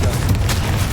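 A fiery Confringo blast spell goes off in Hogwarts Legacy, a single heavy boom with a deep rumbling low end that fills the whole second with dense, loud noise.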